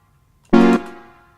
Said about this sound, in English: And reverb sounds like this.